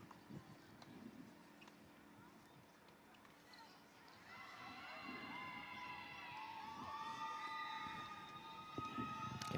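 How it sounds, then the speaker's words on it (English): Fans cheer at a girls' varsity tennis match, a distant crowd rising in whoops and shouts around a court, building steadily over faint background noise and scattered sounds. "You can hear the fans starting to cheer as they start huddling up around court number 5"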